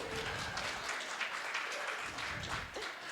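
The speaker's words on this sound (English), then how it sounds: "Even the crew, they're applauding." A telethon crew applauds in a fairly quiet, continuous patter of clapping from a small group, sustained evenly with no voices over it.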